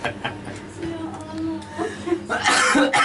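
A few sharp coughs and throat-clearing bursts up close, mixed with chuckling and talk around them.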